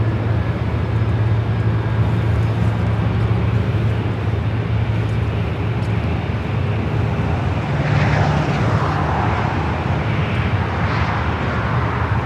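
An airliner taking off at LAX roars in a steady, loud, broadband rumble that holds throughout, with a rising whine emerging near the end as the jet powers down the runway.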